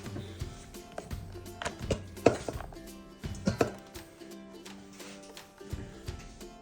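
A knife chops through butter on a board, a handful of dull taps spread unevenly, with quiet kitchen handling sounds in between.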